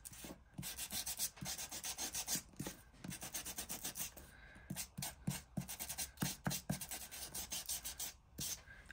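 Rhythmic rubbing strokes of sandpaper across paper ephemera, close and distinct, in uneven back-and-forth bursts with brief pauses.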